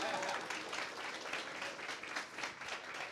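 Steady applause from the audience at a Barcelona campus graduation ceremony, a dense, even clatter of many hands clapping with slight swells, moderately distant.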